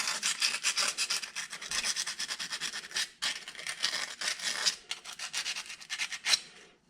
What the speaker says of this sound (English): only 120 sandpaper, so just enough to just take some of the burrs off